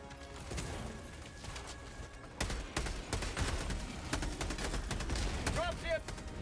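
Bursts of rapid gunfire in Helldivers 2 during a fight against automaton bots, sharp repeated shots in clusters over a busy battle background, with players talking over the action.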